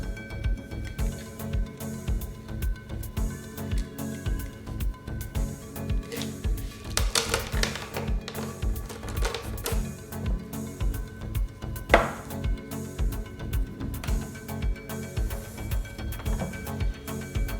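A DOMS plastic crayon is rubbed back and forth across plain white paper in quick, rhythmic scratchy strokes that continue steadily throughout, close and fairly clear, with no talking.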